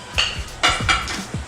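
A utensil clinks and scrapes against an electric skillet while soy sauce is stirred into a creamy sauce, a few sharp metallic taps in quick irregular succession, close up.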